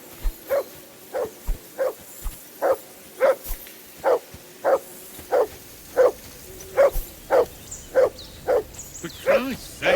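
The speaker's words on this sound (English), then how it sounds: "Call off that damn dog!" A dog barks over and over in Kingdom Come: Deliverance II, about a dozen evenly spaced barks over ten seconds, fairly close and clear against a quiet background.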